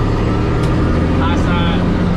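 A dump truck's diesel engine drones loud and close as the driver floats gears, with a steady low rumble that rises slightly as the revs climb, while someone talks over it.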